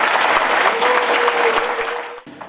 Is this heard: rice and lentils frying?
no